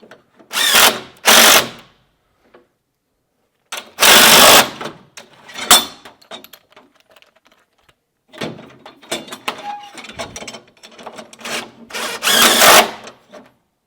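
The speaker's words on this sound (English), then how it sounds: "I think I've broken my impact finally after, 4 years of use." An impact drill with a worn chuck that no longer holds bits fires in several short bursts separated by pauses, loud and near, with clicks and rattling between runs in a shop setting.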